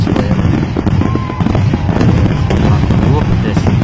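Fireworks going off in a dense barrage of crackling pops and bangs, loud and continuous, with voices talking underneath.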